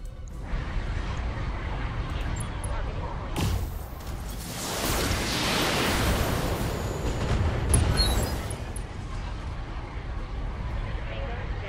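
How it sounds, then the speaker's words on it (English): An ammo explosion in the BattleTech video game erupts as a loud, sustained rumbling blast that swells midway and slowly fades, with a voice talking over it. "Got an ammo explosion"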